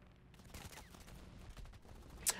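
Gunfire from fighter planes such as a BF-109 in a World War II air combat video game, heard as a quick, faint rattle of rapid shots with one sharper crack near the end.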